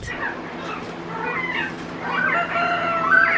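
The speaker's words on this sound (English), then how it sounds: "you can hear by the sounds, there is absolutely a pecking order with these quail" Quail calling as they sort out a pecking order, a close run of chirps and squawks that grows busier and louder toward the end, with no talk.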